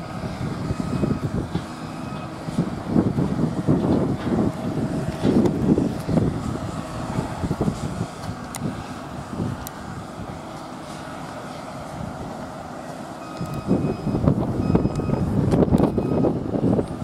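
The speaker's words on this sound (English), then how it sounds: "It's a bit windy today." Gusty wind buffets the microphone in uneven surges, rising and falling over a low background rumble, with no one speaking.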